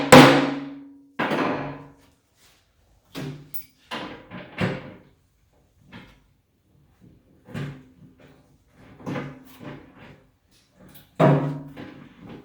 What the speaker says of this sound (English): hammer to force the square part of the bolt to put a dent in the composite